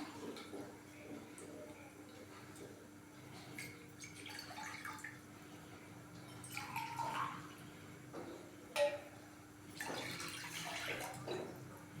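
Two glasses of water poured into a Healux cooking pot on a stove for steaming fish, a faint splashing and trickling with soft drips, quiet and close.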